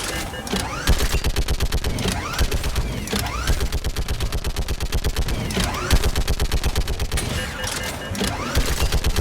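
Sustained automatic gunfire in the video game Mass Effect 3, played on Insanity difficulty: rapid, dense bursts of shots repeating nearly without pause across the whole stretch, loud and close.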